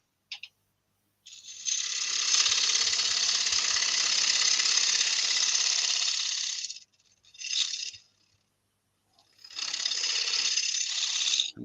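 A lathe tool cuts a dovetail chamfer on a yew bowl blank, a loud hissing, rasping scrape in bursts: one long pass of about five seconds, a short touch, then another sustained cut.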